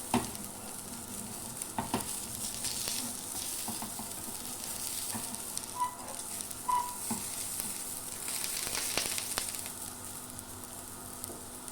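A horse gram dosa sizzles steadily on a hot pan, a close, continuous frying hiss with a few faint scrapes and clicks, and no voices.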